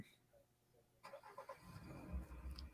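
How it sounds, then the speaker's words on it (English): A car engine turns over and catches, rising from a quiet background into a low, rumbling idle, close by and without speech. "You didn't hear that car start up?"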